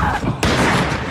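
A gunshot fired at a door in the film The Pack bursts out as a single sharp, loud blast about a third of the way in, over a dense, tense movie soundtrack.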